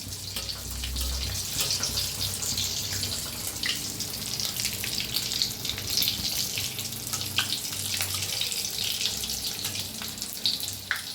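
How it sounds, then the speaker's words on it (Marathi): Vada for vada pav frying in hot oil, a continuous close hiss and bubbling sizzle with a steady, even texture and no talking. "या आता छान तळून घ्यायचं."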